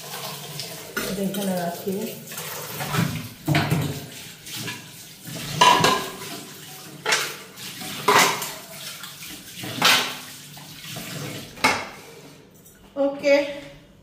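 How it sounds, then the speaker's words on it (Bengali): Dishes and utensils being rinsed under running water at a kitchen sink, with repeated clatters and knocks of pots and cutlery over a steady water rush, close by, with a brief spoken remark. "একটু ধুয়ে নিব"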